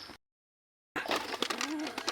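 Soft pigeon coos rise after a brief silence, low throaty calls close by amid rustling and faint background noise.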